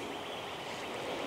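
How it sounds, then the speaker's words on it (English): The flooded Harpeth River in Kingston Springs, Tennessee, rushes after heavy rains, giving a steady, broad roar of moving water heard at a moderate distance. "this is another view of the heavy rains and the flooding here on the Harpeth in Kingston Springs"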